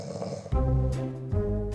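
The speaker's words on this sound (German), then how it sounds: "Und dann schnarcht der Partner." A roommate snores at night, two heavy rasping inhales about a second apart, near and fairly loud, with no talking.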